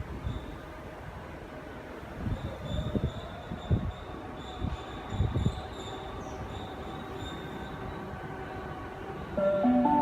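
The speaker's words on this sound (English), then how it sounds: "We have a Series 1 Waratah arriving to platform 1" A Sydney Series 1 Waratah electric train pulls into a platform at Edmondson Park station, with a rumbling approach, clattering wheel thumps and a faint high squeal as it slows, followed by a brief tonal chime.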